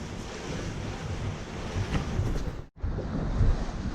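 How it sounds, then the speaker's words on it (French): Atlantic swell and strong wind rush over a catamaran sailing from Ilet Gosier toward Marie-Galante, a continuous roar of waves and buffeting wind noise across the microphone with a brief dropout. "on commence à avoir une belle houle d'Atlantique"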